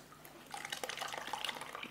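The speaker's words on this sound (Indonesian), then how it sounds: "Selanjutnya kita tuangkan" Liquid pours and drips in a short, light splashing trickle while a homemade probiotic is being mixed, close by and fairly quiet, with no talk over it.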